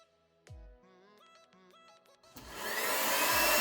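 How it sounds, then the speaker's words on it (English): A handheld blow dryer used to dry freshly painted miniature figures switches on after a few brief tonal sounds, then builds into a loud, steady, close whoosh that keeps rising to the end. "Might need that blow dryer a little bit."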